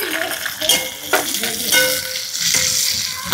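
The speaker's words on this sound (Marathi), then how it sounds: "तर तेल तापलेलं आहे, तर याच्यात टाकून घेते आता मी लसण।" Garlic and onion frying in hot oil, a loud steady sizzle with crackling bursts and scraping stirs of a utensil in the pan, close up and without talk.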